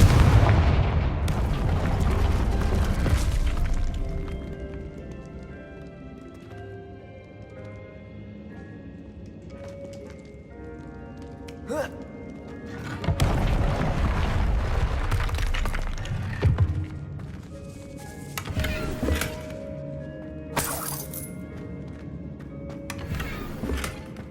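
Confringo fire-curse spells in the Hogwarts Legacy video game burst in heavy booming explosions, some with crackling, shattering debris, mixed with softer game effects and background music between blasts.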